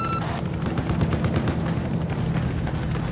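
Gunfire in Battlefield 4 on the Zavod 311 map during a Conquest match: rapid bursts of automatic fire and sharp shots rattling continuously and loudly over a few seconds, with no talk.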